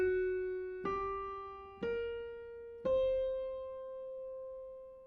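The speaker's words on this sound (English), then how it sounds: "we are using the C blues scale for your funk melody." A short funk melody built on the C blues scale, four sustained pitched notes entering one after another, each with a clear attack and a long ringing decay, played alone with no voices.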